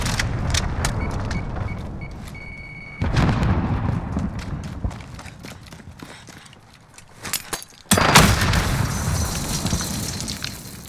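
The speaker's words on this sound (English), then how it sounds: "Allied cruise missile on the way." An allied cruise missile strike in Call of Duty: Modern Warfare, with booming explosions that hit at about three and eight seconds, then rumbling debris and crackling between the blasts.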